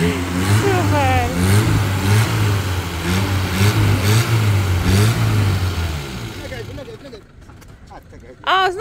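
An old, wrecked car's engine revs and runs roughly under people talking, then cuts out near the end, leaving quieter voices and a brief noise.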